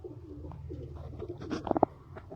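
A pair of pigeons of a fancy breed kept for sale in Sialkot coos softly and nearby, with low rolling calls building to a few louder throaty notes.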